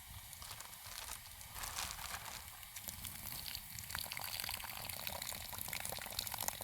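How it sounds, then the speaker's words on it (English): Liquid from canned beans being drained off, a close, steady trickle and splash of pouring with faint crinkling, set in a jar-meal campfire chili preparation. "so I'm going to try to drain some of it out"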